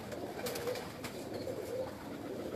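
Pigeons of the Sheikhu breed coo softly in a slow, repeating rhythm on a rooftop, the low calls rising and falling over steady faint background noise, with no voices.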